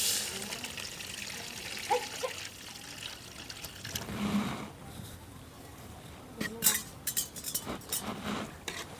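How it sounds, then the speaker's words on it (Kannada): Water is poured into a pot of Maggi noodles cooking on a wood-fired stove, giving a soft, close trickle. Light clinks of a pot and utensils sound alongside it. "ಇವಾಗ ಇದಕ್ಕೆ ಸ್ವಲ್ಪ ನಾವು ನೀರನ್ನು ಹಾಕೋಣ"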